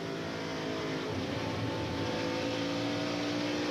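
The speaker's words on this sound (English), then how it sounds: "But you can hear these guys with that throttle." NASCAR stock cars on the throttle during a 2003 race, a continuous layered engine drone with several tonal bands, fairly distant and even in level throughout.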